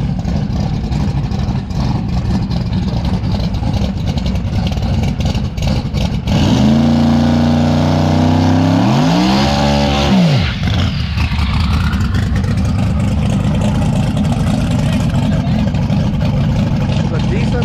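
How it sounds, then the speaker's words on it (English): A drag race car does a burnout, its engine rising to a loud rapid high-rpm wail with pitch climbing and dropping over several seconds between quieter idling and background crowd noise. "It's a decent burnout."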